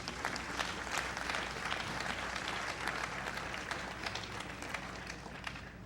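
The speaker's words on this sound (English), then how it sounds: "I think you should give him a round of applause" Sustained applause from a large audience at a World Blood Donor Day opening ceremony, dense and even clapping that holds at a steady level with no pauses, from start to finish.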